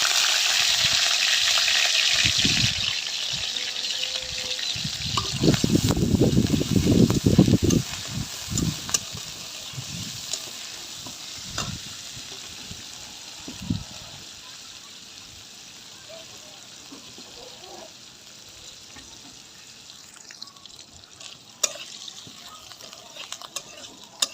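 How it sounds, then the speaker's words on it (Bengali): Onions and green chillies dropped into hot oil in a pan, giving a sudden loud crackling sizzle that peaks early and then settles into a quieter, steady frying hiss with occasional pops and stirring scrapes. "এখন এখানে আমি পেঁয়াজ আর কাঁচামরিচ দিয়ে দেবো"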